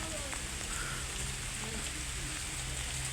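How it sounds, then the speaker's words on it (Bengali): Heavy rain pours steadily in the Sundarbans mangrove forest, a dense continuous hiss with no gaps, heard without speech. "আজকে অনেক বৃষ্টি হচ্ছে"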